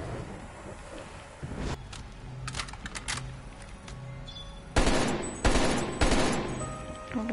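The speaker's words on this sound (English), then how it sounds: "I'm gonna shoot these little orby things." Gunfire in the video game Black Ops Cold War, zombies mode, sharp bursts of rapid shots in short clusters, with quieter gaps and lighter clicks between, loud and close, no speech.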